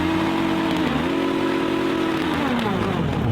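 Motorcycle engine revving hard and loud right up close, a steady roaring drone whose pitch holds, dips briefly and then slides lower near the end as the revs fall.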